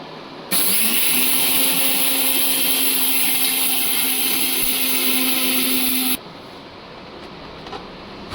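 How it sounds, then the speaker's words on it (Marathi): A mixer grinder whirs loudly and steadily as it grinds roasted spices into pickle masala powder for mango and jackfruit pickle, starting abruptly and cutting off after about six seconds, leaving a quieter room. "आता मिक्सरमध्ये छान पावडर करून घ्यायचं आहे"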